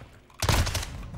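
A grenade explodes in the Modern Warfare 2 video game, one heavy booming burst with a rumbling tail, landing over a steady bed of game noise and gunfire.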